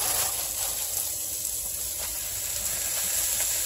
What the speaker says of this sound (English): Okay, I'm going to add the spinach.